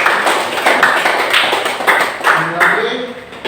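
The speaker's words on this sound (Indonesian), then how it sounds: "tepuk tangan buat kalian." A classroom of students clapping for themselves at the end of a lesson, with a few irregular, fairly close bursts of claps mixed with voices talking and laughing underneath.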